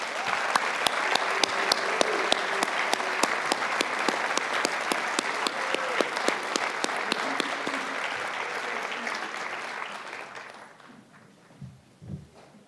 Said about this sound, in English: Let's give a final applause for the class of 2018.